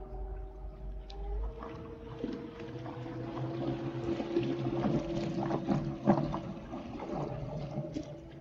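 A homemade mini electric boat with twin motors moving on water, giving a steady whine and hum from the motors over continuous splashing and churning water, close by.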